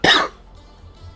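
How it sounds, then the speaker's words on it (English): A single sharp cough, close and loud, fading quickly into a quiet room. "I don't know why I keep coughing."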